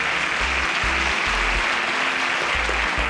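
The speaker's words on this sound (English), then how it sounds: "A round of applause for Juwon" Applause rings out on a Nigerian studio show for a contestant named Juwon, steady clapping filling the whole few seconds with a low thumping beneath it and no voices over it.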